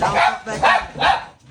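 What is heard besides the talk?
dogs barking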